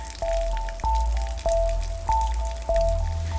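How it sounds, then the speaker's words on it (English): Rainwater running off a roof falls into a rain barrel as close, resonant drips that land in a regular rhythm about every half second, each one ringing briefly. "The force of water off of our roof is so much that it moved the extender"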